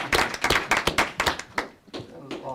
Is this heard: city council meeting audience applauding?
yes